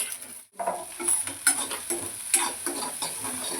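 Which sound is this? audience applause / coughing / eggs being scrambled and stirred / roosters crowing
eggs being scrambled and stirred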